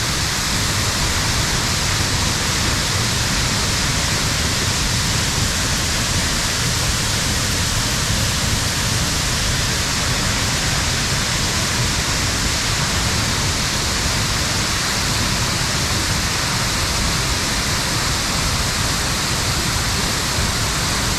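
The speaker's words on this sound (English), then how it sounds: "We get down to the bottom here, you'll see the wind blowing off this waterfall." Deer Creek waterfall in the Grand Canyon roars as a loud, steady broadband rush, continuous and close throughout with no voices over it.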